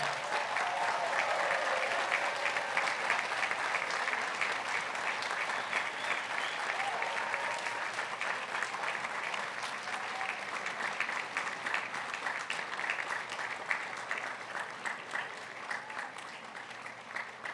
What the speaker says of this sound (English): Graduates, please stand and applaud these individuals who have contributed to your many successes.